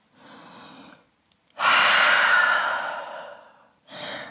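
Deep breaths taken while holding downward dog pose in a yoga flow: a short exhale, a long loud sighing breath out that tapers off, then the start of another breath.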